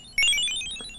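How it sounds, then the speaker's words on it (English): A cell phone rings with a single short burst of bright electronic chiming tones, fairly close and clear, over a quiet background. "I think I'm getting a phone call from my cell phone."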